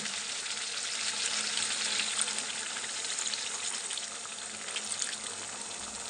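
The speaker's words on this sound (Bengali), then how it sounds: "এখন আমি এর উপরে জল দিয়ে দেব, অল্প করে জল দেব।" Bengali tangra fish curry frying in a pan as a little water is poured in, giving a steady, even sizzle that holds for about six seconds, close and moderately loud, with no talking.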